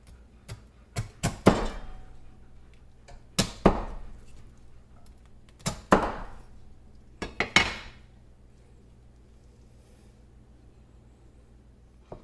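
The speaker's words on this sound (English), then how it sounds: "Now I'm gonna chop up the roast pork." Heavy knife chops land on a board through crispy-skinned Chinese roast pork belly in sharp bursts, some doubled, with crackly crunches trailing each strike; several pauses separate groups, then quiet.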